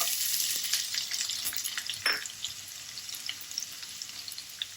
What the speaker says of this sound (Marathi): याला छान गुलाबी रंग येईपर्यंत आपल्याला कांदा भाजून घ्यायचा आहे